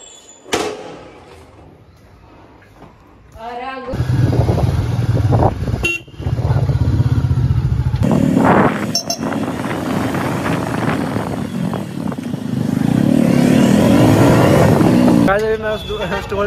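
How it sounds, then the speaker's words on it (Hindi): A motorcycle is taken out and ridden on a street in Bahadurgarh: a quiet start gives way to a steady, close engine drone among passing traffic, with horn honks and a voice talking briefly. "तो चलो यार अभी जल्दी से हम बाइक निकालते हैं अपनी"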